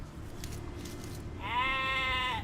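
A sheep bleats once in the video game Age of Empires II Definitive Edition, a clear wavering call that rises over a low, steady game ambience after a quiet stretch.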